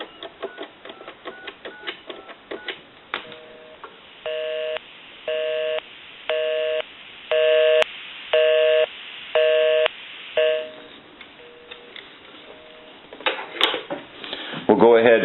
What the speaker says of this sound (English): I'll call my number and it'll be busy.